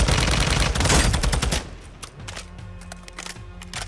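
Rapid automatic gunfire in Call of Duty Modern Warfare 2, a loud burst of close, fast shots for about a second and a half, then sparser, quieter distant shots and pops trailing off.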